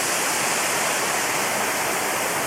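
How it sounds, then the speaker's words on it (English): A waterfall pours into a gorge beside Pumkintown Road, a dense, steady roar of rushing water, loud and unbroken throughout with no voices. "There's that waterfall."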